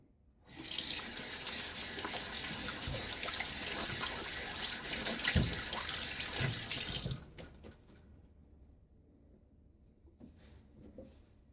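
A tap runs steadily into a sink for several seconds with water splashing as something is rinsed during a wet shave, then it shuts off, leaving faint drips and quiet.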